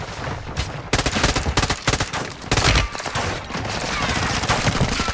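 Rapid bursts of gunfire from a burst-fire gun in a Call of Duty match, sharp close shots in quick clusters with brief gaps, then a sustained noisy wash of battle.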